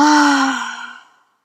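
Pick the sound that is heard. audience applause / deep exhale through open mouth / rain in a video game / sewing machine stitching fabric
deep exhale through open mouth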